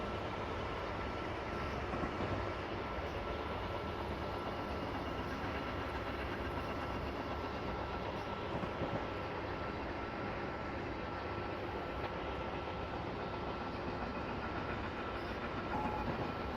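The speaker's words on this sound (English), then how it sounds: "That looked like a Norfolk Southern freight train." Norfolk Southern freight train in a Northeast Corridor train simulator game, a steady, fairly faint rumble of rolling wagons heard from inside a cab, with a soft continuous hiss and no talk.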